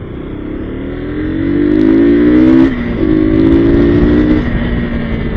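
Motorcycle ridden fast on a road in Nashik heat, loud steady engine drone with rising pitch as it accelerates, a brief dip around midway then pulling again, wind rushing across the helmet throughout; no talking.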